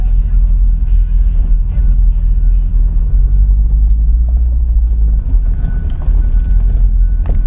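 A 2008 Chevrolet Corvette C6 with the LS3 V8 is driven slowly across grass at a wrecking yard. Its steady, loud low engine rumble runs throughout, with wind buffeting on the microphone and no clear pauses.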